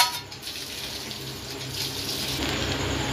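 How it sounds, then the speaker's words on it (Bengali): A mixture of rose water and attar is poured into biryani in a soft, continuous watery trickle, quiet and close, with no talking. "এই দেখুন গোলাপ জল 1 চামচ আর আতর একটু সামান্য দিয়ে আমি এটা একসঙ্গেই করে রেখে দিয়েছিলাম, সেটা দিয়ে দেব।"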